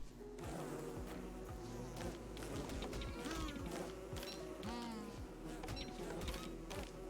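A swarm of bees in the video game Don't Starve Together drones in a dense, steady buzz, with overlapping wingbeat whines and small chirps and clicks throughout.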